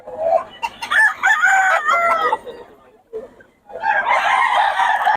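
A young stag gamecock crows at a Bocaue market, a strained, ragged call that rises and falls twice, close and loud amid market noise.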